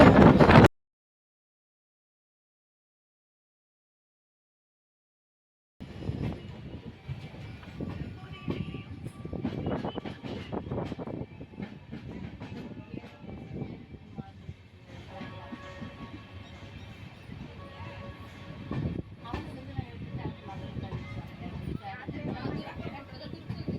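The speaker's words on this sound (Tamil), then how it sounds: "நம்ம அப்படியே ட்ரெயின் மூவ் ஆகும்போது பார்ப்போம்." The Amrit Bharat Express runs between Thiruvananthapuram and Tambaram. After a short burst and a few seconds of silence, the moving train gives a continuous low rumble with rattling carriages and faint clicks, with voices at times.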